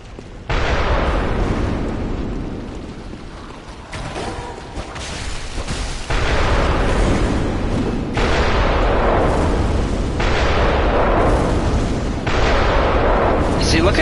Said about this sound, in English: All he's doing is firing cannons.